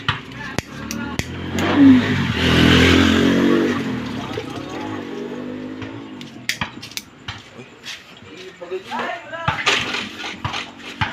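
Motorcycles without mufflers rev loudly, one rising engine roar swelling and fading early on, with people talking over and after it.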